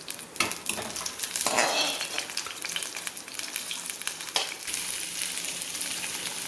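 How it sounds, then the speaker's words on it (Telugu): Boiled chicken liver sizzles and fries steadily in a pan, a continuous crackling hiss with occasional louder bursts as it is stirred, close and without talk. "కొంచెం ఫ్రై అయిన తర్వాత బాయిల్ చేసిన లివర్ వేసేసుకోవాలి"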